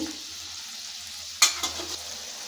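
Mixed vegetables frying in a pan for veg pulao give a soft continuous sizzle, close by, broken midway by a sharper clatter and stir of a spatula.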